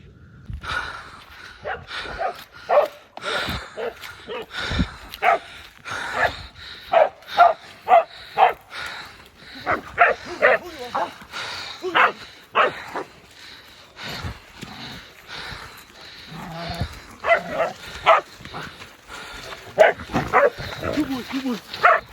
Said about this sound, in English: Let them dogs out.